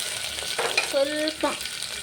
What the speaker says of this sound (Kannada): ಈರುಳ್ಳಿ ಹಾಕೊಂಡಾದ್ಮೇಲೆ ಈಗ ಚಕ್ಕೆ ಲವಂಗ ನಾನು ಹಾಕೋತಾ ಇದ್ದೀನಿ